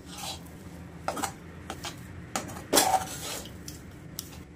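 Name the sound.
sautéing kachori filling in a pan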